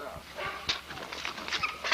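A bulldog stud dog in a kennel yard gives a few soft, brief whimpers and yips amid light background noise and movement, close by and fairly quiet.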